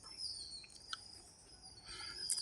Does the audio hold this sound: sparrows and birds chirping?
yes